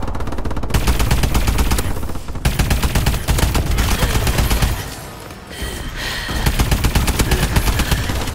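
Havoc weapon fire in the video game Call of Duty: Advanced Warfare, dense rapid bursts of heavy automatic gunfire with deep low-end punch, nearly continuous across the clip with a brief lull partway through.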